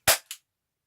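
An Umarex USP air pistol fires a single sharp, close pop, followed a moment later by a brief softer mechanical echo, with silence after.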